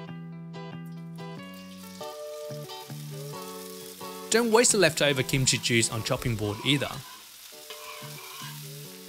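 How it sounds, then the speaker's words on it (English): Loud sizzling of chopped kimchi frying in oil in a hot pan bursts up midway and crackles for a few seconds, while a person talks with music underneath. "Adding enough neutral tasting oil to cover the base, and in goes the chopped up kimchi"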